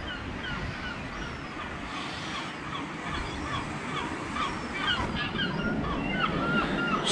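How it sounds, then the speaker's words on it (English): Surf washes in continuously on Tower Beach in Newquay, Cornwall, a soft distant roar heard from a balcony, with scattered gull cries overhead and light wind buffeting. "All the waves crashing in on Tower Beach."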